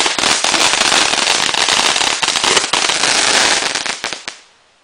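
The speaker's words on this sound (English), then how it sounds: "That was like the real fireworks." Birthday fireworks explode in a long, dense barrage of loud crackling bangs, sustained for several seconds before cutting off abruptly and fading into quiet.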